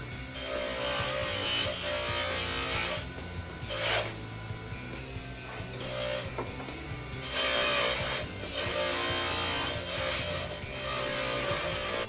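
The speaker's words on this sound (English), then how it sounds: "we finished on the polishing machine" A polishing machine works a cast finger ring at the bench, giving a loud continuous whirring and rasping grind with several surges where the piece is pressed harder against the wheel.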